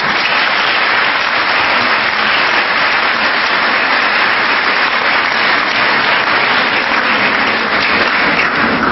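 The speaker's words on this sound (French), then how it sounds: "Vous méritez nos applaudissements." Dense audience applause fills a school ceremony, loud and continuous like heavy rain, steady throughout with no pauses or voices on top.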